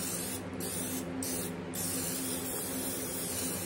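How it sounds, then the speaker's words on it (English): Cooking spray hisses onto a brownie baking pan in three short bursts, close to the microphone, over a steady background hum. "So let me spray my pan."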